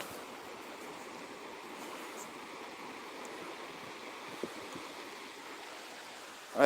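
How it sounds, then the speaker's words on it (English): Ocean waves wash steadily as a broad, even roar of surf that holds at a constant level, with no voices over it. "did you guys get a good hear of the ocean?"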